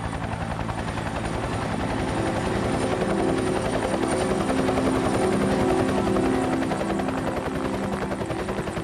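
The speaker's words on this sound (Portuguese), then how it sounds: "O som de um helicóptero ainda é um dos meus favoritos." A helicopter thumps loudly and steadily nearby, its rapid rotor beat and engine whine continuous throughout.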